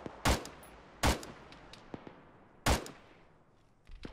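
Three sharp, loud gunshots from Arma, spaced about a second or more apart, with fainter distant shots popping between them.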